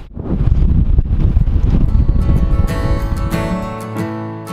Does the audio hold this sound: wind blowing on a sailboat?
yes